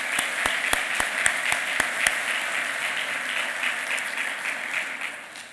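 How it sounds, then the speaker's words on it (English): Summit attendees applaud themselves, a sustained crowd clapping with a few sharp, close individual claps standing out early, then an even wash that tapers slightly toward the end. "give all of yourselves a round of applause for your participation"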